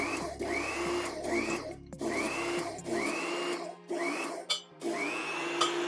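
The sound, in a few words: hydraulic machine forcing steel pier pipe into the ground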